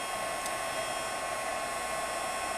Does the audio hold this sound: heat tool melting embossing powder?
yes